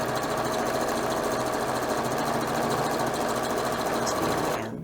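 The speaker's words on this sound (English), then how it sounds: "just run another little line of stitching inside that just to strengthen it up" A sewing machine stitches a fabric seam on a homemade reusable scrubbing pad, a rapid steady mechanical chatter running close and loud for nearly five seconds before stopping abruptly.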